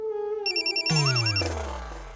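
A phone rings with an incoming call, a short electronic ringtone of bright tonal chirps and a sliding melodic phrase, heard up close and alone for about two seconds.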